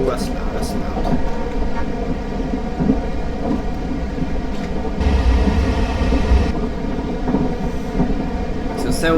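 A loud passing train in Train Simulator 2017 on the South Western Railway, a steady heavy rumble and roar rolling on with no break, a brief harsher swell midway.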